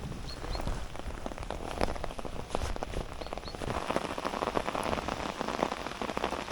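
Heavy rain pours down outdoors during a summer bream fishing trip, a dense, unbroken patter of drops hitting nearby surfaces, loud and steady throughout.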